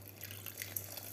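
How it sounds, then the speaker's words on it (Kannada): Water poured into a cooking pot while making bisi bele bath, a faint, steady trickle with light splashing and no voices. "ಇವಾಗ ಇದಕ್ಕೆ ನೀರು ಹಾಕೋಣ."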